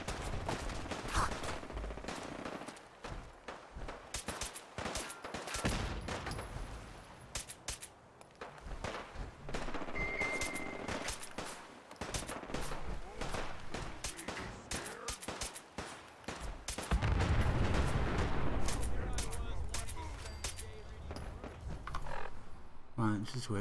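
Enemy gunfire in Fallout 4: rapid bursts of automatic and single shots crackle almost continuously, close and loud, with footsteps and thuds mixed in.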